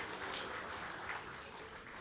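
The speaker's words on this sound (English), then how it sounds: "Another round of applause, ladies and gentlemen," An audience at a business excellence awards night in Fiji gives a round of applause, heard as soft, distant, continuous clapping for about two seconds.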